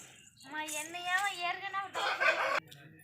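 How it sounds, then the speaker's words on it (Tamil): A rooster crows once nearby, a long wavering call, followed by a brief noisy squawk. "டெரரான சேவல்"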